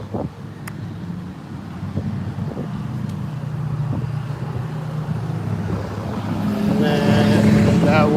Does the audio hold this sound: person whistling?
no